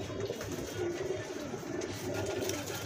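Pigeons coo softly in a loft, with low, rolling murmured calls that repeat under a steady background hum, moderately close.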